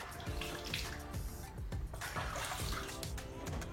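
Bath water sloshes and splashes steadily while a baby is washed in a tub, a close, continuous watery churn with repeated little splashes throughout.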